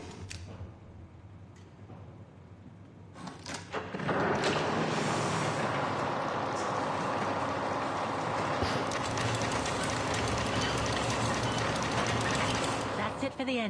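In the video game Syberia: The World Before, a train mechanism is wound up with a few clicking ratchet sounds, then a loud, steady mechanical churning and rattling that runs on continuously.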